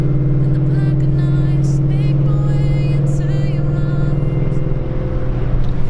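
A 550 HP Ford Mustang GT engine pulls steadily under load from inside the car, a loud, even drone with a rising whine layered above it, with no break across the stretch.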